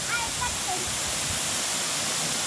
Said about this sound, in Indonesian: Akhirnya sampai juga di air terjun Jaksa